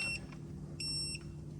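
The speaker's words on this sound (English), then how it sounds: "Beeps," A Wheellator power walker gives short electronic beeps: a brief tone at the start, then a longer clear beep lasting about a third of a second, over a steady low mechanical hum.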